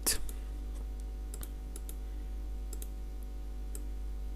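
Light clicks of typing on a computer keyboard come in scattered single taps and short runs over a steady low hum, faint and close, with no talking.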